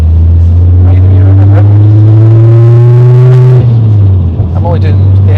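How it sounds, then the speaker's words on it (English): A car fitted with a KMS Thunderstorm exhaust and 5.5-inch slash-cut tips revs hard and close, its deep droning tone climbing in pitch before dropping off, loud and echoing, with a voice talking over it. "it's a KMS Thunderstorm exhaust that's on it"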